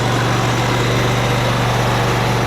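A lawn mower engine runs steadily close by, giving a continuous droning hum with a low pulsing throb and broadband rattle that stays level throughout, with no voices.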